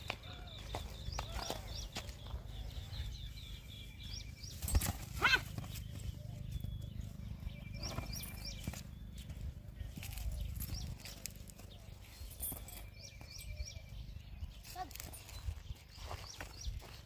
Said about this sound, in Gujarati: ઘોડી લઈને હવે ઘરે જઈ રહ્યા છે વિક્રમ